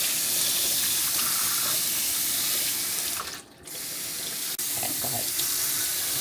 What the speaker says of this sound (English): Wash your fish before you cook it.